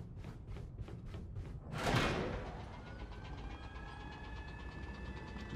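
A sliding door in the Valorant map Breeze opens in a first-person shooter. A quick series of mechanical clicks is followed by a loud whooshing slam, then a lingering metallic hum and faint rattles fade out.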